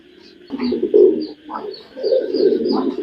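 Maxi pigeons, a pair of light-coloured birds, coo in low, throaty bursts close by, several rolling calls in a row with short pauses between them.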